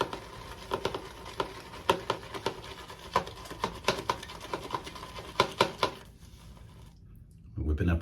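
Shaving soap lather being whipped up with a brush in a bowl, a rapid, irregular run of close wet taps and swishes that stops abruptly near the end, followed by a burst of louder low noise.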